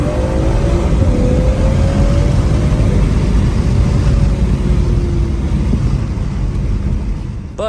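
Loud, steady exhaust drone from a BMW 440i Gran Coupe with its rear muffler removed, a deep sustained rumble with slowly rising and falling tone while cruising, close and continuous, easing off slightly at the end.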